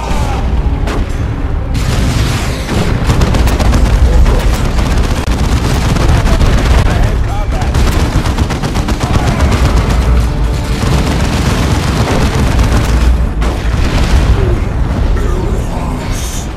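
Battlefield gunfire and explosions in the PC strategy game Dawn of War 2: Chaos Rising, during a capital defence mission, form a loud, dense, unbroken barrage of booms and rattling shots with no speech.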